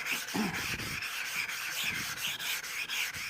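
A steel blade rubbed back and forth on a grit-loaded sharpening stone gives a steady close gritty rasp, with short strokes repeating through the whole stretch and no voices.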